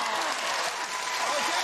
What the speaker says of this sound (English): Everyone's clapping at everything she says.